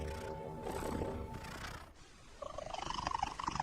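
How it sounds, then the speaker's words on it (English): A cat gives a soliciting purr with an added high-pitched, urgent cry, close and fairly loud, rising into a rhythmic pulsing purr over the last second or so. "Recent research discovered a second type of purr that cats use."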